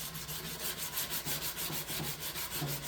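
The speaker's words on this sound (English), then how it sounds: "So I got it sanded down as far as I want to go" Metal body part of an ATC250R being hand-sanded to smooth out dents, a quiet, rhythmic rasping that comes in regular back-and-forth strokes, close and alone without talk.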